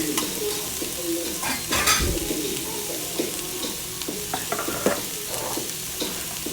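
Carrots cooking down in a pot for a Sunday dinner, giving a steady sizzle and bubbling with occasional scraping stirs and faint bird coos in the background, no talking.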